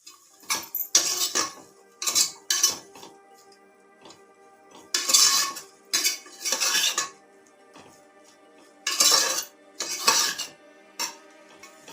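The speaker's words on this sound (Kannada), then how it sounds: "ಎಲ್ಲನೂ ಚೆನ್ನಾಗಿ ಮಿಕ್ಸ್ ಮಾಡ್ಕೊಳ್ಳಿ" Spices and coriander leaves being mixed in a pan while making Karnataka-style hasikalu huli sambar masala: repeated close metallic scrapes and clinks of a utensil against the pan, in short irregular bursts with brief pauses, no talking.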